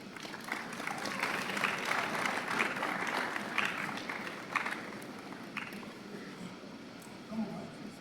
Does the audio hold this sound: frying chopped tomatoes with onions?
no